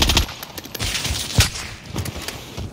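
Bursts of automatic gunfire in the video game Warzone, rapid clustered shots in several sharp volleys across a short stretch, fairly close and loud with no talk over them.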